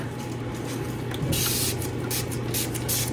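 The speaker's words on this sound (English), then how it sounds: "Spray it for bubbles." Several quick hissing bursts from a spray bottle in the second half, close by over a low steady hum.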